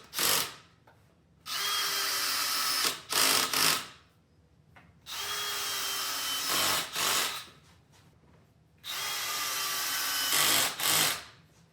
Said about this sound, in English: then you can get out the screws and screw everything together